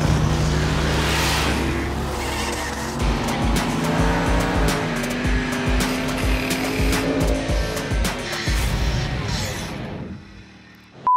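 A pickup truck drag races a Camaro at a street race, loud engines roaring and revving throughout with rapid acceleration bursts and tire noise, fading out near the end.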